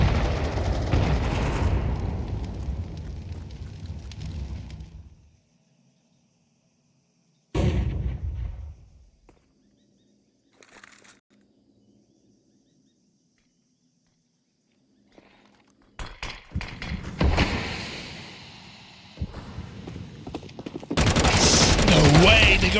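Tec-9 fire and explosions in a professional Counter-Strike match, with dense bursts of gunfire and blasts at the start and end, a sharp isolated burst in the middle and near-silent gaps between, under faint commentary.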